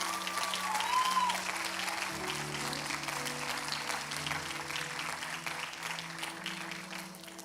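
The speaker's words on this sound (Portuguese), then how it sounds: "Pode aplaudir mais forte?" A church congregation applauds steadily and loudly for several seconds, a dense wash of clapping with music or a hum underneath.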